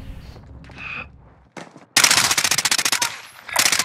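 Loud rapid automatic gunfire in a video game bursts in after a quieter stretch, a dense rattling volley of shots ringing out close and sharp, pausing briefly before resuming.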